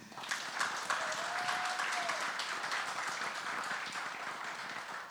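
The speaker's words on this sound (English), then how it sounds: "So please, a big round of applause for him." Steady applause from a crowd at a movie trailer launch event, sustained clapping that holds at an even level throughout with no pauses.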